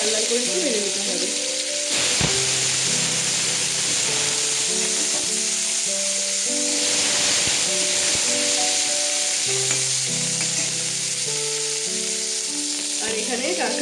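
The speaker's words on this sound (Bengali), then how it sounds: "তেল গরম হয়ে গেলে আলুগুলো লাল লাল করে একটু ভেজে নিতে হবে।" Potato pieces fry in hot oil for a crab curry, a steady close sizzle and hiss running throughout, with a voice speaking over it at times.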